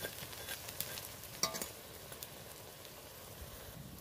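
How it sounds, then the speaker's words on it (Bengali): Thankuni (Indian pennywort) leaf fritters frying in oil make a soft, low sizzle, with a single sharp utensil click as they are turned and no talking. "বড়াগুলো আমি ভালো করে উল্টে পাল্টে দেখো ভেজে নেব।"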